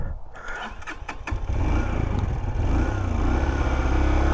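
A Honda 125cc motorcycle coughs back to life after faltering, with a few sharp irregular bursts followed by a louder, steady engine note with uneven, odd-sounding running close by.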